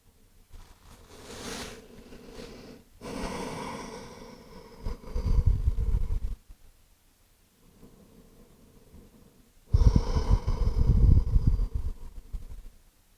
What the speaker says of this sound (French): Essayez toujours de garder de grandes et longues inspires, de grandes et longues expirations.